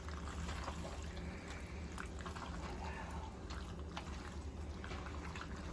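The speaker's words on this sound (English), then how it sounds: "So we're going to put some of this pasta water in there," Starchy pasta water pours into a pan of thick vodka sauce with cheese, a soft continuous trickling splash close by over a low background hum.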